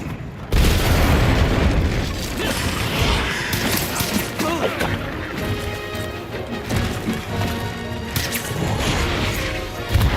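Bomb blast in the Monster Hunter Wilds video game: a loud booming explosion lands early, then a dense run of crashes, thuds and rumbling action noise continues without a break, with a voice now and then.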